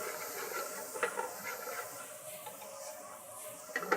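Onions and peppers sizzle in a pan in a dining room kitchen, a steady bright hiss with a few soft pops and clinks, moderately quiet and continuous throughout.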